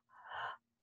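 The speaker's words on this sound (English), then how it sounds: "So through the mouth. so you're breathing into the belly" A single breath drawn in through the mouth during a breathwork session: a soft, airy, close inhale that swells and then stops after about half a second, with no talking.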